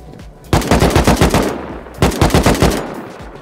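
Two rapid bursts of automatic gunfire in the video game Rust, each a loud string of about eight sharp cracks in quick rhythm, separated by a short pause.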